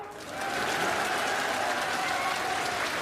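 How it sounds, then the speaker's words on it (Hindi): A crowd at an outdoor political rally in Madhya Pradesh bursts into dense, sustained clapping that swells quickly and holds steady for several seconds, loud and close, with faint voices mixed in. "अगर सही है तो ताली बजाओ।"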